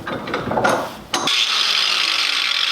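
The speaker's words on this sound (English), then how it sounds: "This is the only correct way to cut a seat post, kids." A power tool cuts through a bicycle seat post, giving a short rough grinding burst followed by a steady, bright high-pitched whine, close and loud with no talking.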